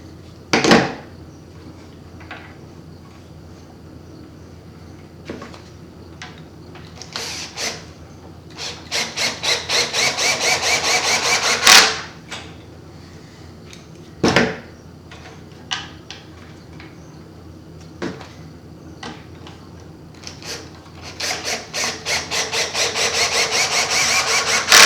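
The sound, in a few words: drill with auto clutch driving screws into ski binding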